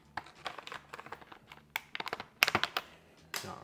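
Plastic card prying at the case clips of a Lenovo gaming laptop, giving sharp clustered clicks and scratchy snaps in short bursts, close and fairly quiet, with no talking.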